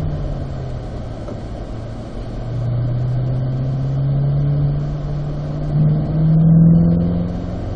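A Corvette C8 on a driving-school track gets louder as it accelerates in fourth gear, its engine drone climbing steadily in pitch over several seconds from inside the car.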